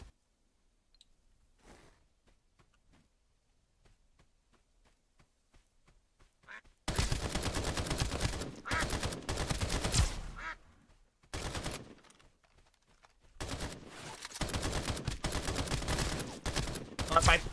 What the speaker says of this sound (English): The recoil on this gun is pretty awful though. It pulls so hard while you're shooting it.